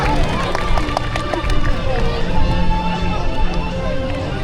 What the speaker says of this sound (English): Go give all three of our sea lions a big round of applause